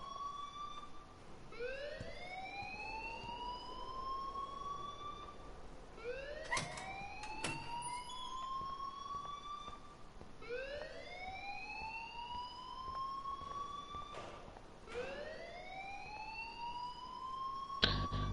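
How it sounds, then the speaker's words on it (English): School alarm in the Life Is Strange video game, rising in repeated whooping sweeps about every four seconds, steady and fairly distant with no talk. "please turn off that alarm since that's your job"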